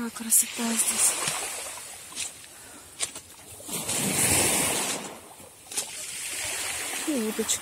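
Sea surf washes onto a shore on a December evening in Gelendzhik, steady broad rushing with swells that rise and fall, louder around the middle; faint voices and bird calls come through near the end.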